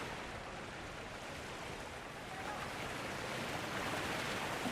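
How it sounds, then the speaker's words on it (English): Rushing water from a waterfall in the video game Dragon Age Inquisition, a steady broadband roar that holds even and continuous throughout, with no voices. "That's some waterfall."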